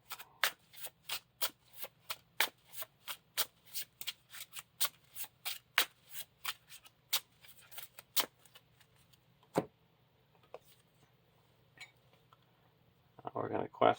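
A deck of cards for the Lord of the Rings living card game is handled and shuffled at a table: a long run of crisp, close clicks in a quick irregular rhythm, then a brief rustling burst near the end.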